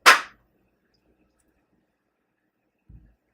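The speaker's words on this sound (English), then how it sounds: "take a couple sprigs of basil, get a little slap" Sprigs of basil are slapped between the hands: a single sharp slap at the start, then near silence, with a faint soft thud toward the end.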